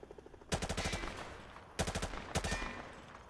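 Bursts of rapid automatic gunfire from Call of Duty MW2 Remastered on PC, sprayed at range targets: a short burst, a pause, then two more loud rattling bursts in quick succession, with no talking.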